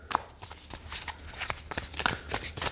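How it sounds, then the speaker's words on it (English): A deck of The Muse Tarot cards being shuffled up close, with quick rhythmic riffles and flicks of stiff card stock in short bursts, no voices. "they shuffle just great"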